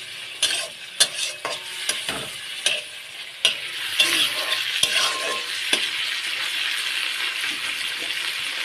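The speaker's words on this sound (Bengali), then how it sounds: "সেই লাউ আমি চিংড়ি মাছ দিয়ে করছি।" Bottle gourd and shrimp being stirred and fried in a pan over a wood fire, with a steady close sizzle and repeated sharp utensil scrapes and clinks against the pan, and no talking.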